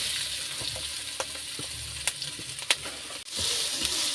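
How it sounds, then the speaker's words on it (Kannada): Onion, garlic and dried red chili frying in hot oil, a soft steady sizzle broken by scattered sharp pops and a few stirring scrapes. "ಇದನ್ನು ಚೆನ್ನಾಗಿ ಫ್ರೈ ಮಾಡ್ಕೊಬೇಕು"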